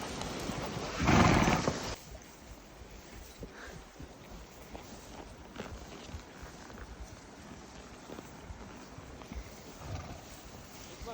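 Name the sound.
pack mules walking on a trail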